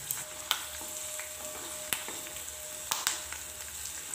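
Peanuts and green chillies frying in hot oil in a pan, giving a steady close hiss and sizzle, with a few sharp crackles and pops along the way.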